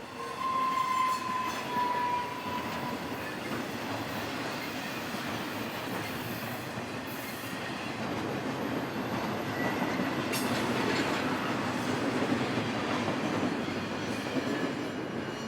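A freight train rolls through Kingman, Arizona, near the old 1907 Spanish colonial revival depot, with a steady loud rumble and clatter of wheels, a brief horn-like tone early on and faint squeals as the cars pass.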